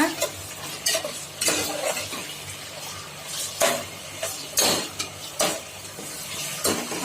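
Onions, tomatoes, coriander and mint leaves frying in oil in a pressure cooker for chicken biryani, a steady sizzle broken by regular loud scraping strokes and clinks of a ladle against the pot.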